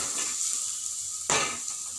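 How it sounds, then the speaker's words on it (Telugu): Vegetable pieces for cutlets fry in a pan with a steady, close sizzle. A single scraping stir cuts in partway through. "ఈ ముక్కలన్నిటిని మధ్య మధ్యలో కలుపుకుంటూ వేయించుకుంటూ ఉండండి."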